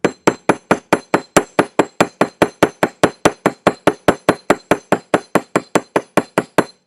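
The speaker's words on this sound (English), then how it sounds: "So after that one, I'm going to hammer the next one." A metal jewelry blank struck with a hammer, about thirty sharp ringing taps in a fast, even rhythm, close and loud, with a bright metallic ping on each hit.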